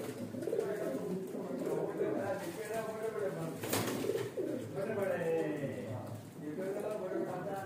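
Teddy pigeons coo steadily in a small loft setup, soft repeated cooing from several birds close by, with someone talking over them throughout.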